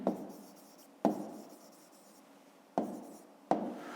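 A pen scratches across paper while a math solution is written out, in four quiet strokes or taps, each followed by soft scratching, close and alone.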